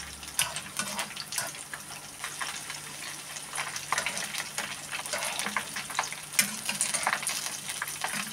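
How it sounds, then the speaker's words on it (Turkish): Food frying until crispy in hot oil, a continuous close crackling sizzle with scattered sharp pops and occasional stirring, no talking. "Çıtır çıtır kızarmasını bekliyoruz"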